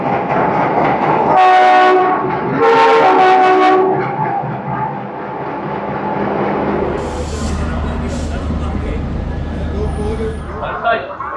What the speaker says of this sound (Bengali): এই যে আমাদের ট্রেন 123-21 মুম্বাই মেল প্ল্যাটফর্মে ঢুকছে।